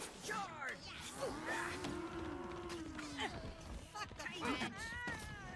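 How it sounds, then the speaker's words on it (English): Cartoon cows mooing in the South Park Phone Destroyer mobile game, several overlapping drawn-out moos with bending pitch, layered with busy game effects and clatter. "we're going to lose this bar to cows, because I can't stop the cows"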